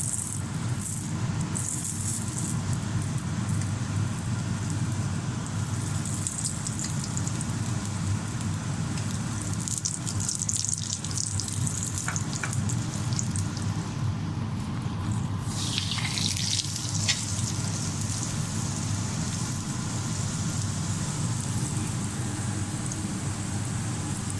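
An aloo paratha, a potato-stuffed flatbread, fries in ghee on a pan with a steady, close crackling sizzle and scattered sharper pops throughout.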